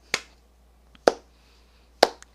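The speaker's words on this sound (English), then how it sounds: "little slow clap for you" Three slow, deliberate hand claps about a second apart, sharp and close, with silence between them.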